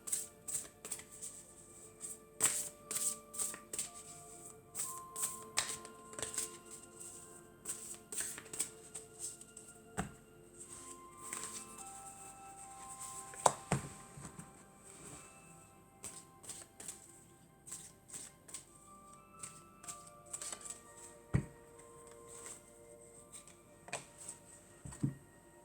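Playing cards being shuffled and flipped onto a table, a long run of soft riffling clicks and light snaps at varying pace, close and quiet, with no talking.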